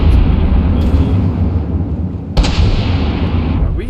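Heavy, loud rumble of cannon fire in From the Depths, a sustained low roar with a sharp blast midway and another near the end.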